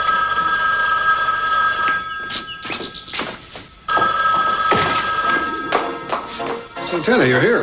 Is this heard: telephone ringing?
yes